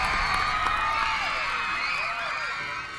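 An audience cheers and applauds for students from St. Gabriel's College at a quiz competition round, a lively crowd din with whoops and shouts held at a steady level throughout.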